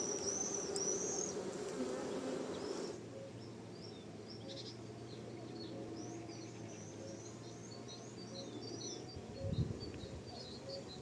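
Bees hum steadily at an apiary in early summer, a soft, continuous buzz with individual insects passing close, faint birdsong in the background and a brief low thump near the end.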